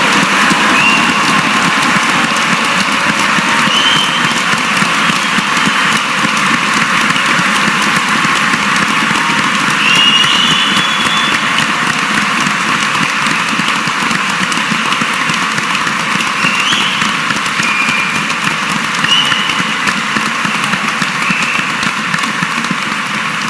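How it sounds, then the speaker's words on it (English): A large audience at a university graduation ceremony in Edinburgh applauds for the graduates, a continuous dense wash of clapping held steady for a long stretch with a low hum beneath. "So the first round of applause then is for today's graduates"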